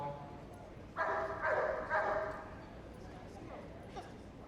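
West Midlands Police dog Echo barking during an attack display at Crufts 2015, a run of three or four loud, harsh barks in quick succession, then quieter yips, over an arena background with a voice talking.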